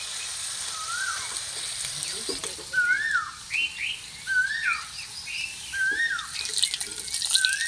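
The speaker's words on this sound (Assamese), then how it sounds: "কুলিৰ মাতটো কি ধুনীয়া লাগিছে কুলিয়ে মাতিলে" An Asian koel repeatedly gives rising, whistled calls in a steady series, each note swooping upward, over a constant hiss of running water.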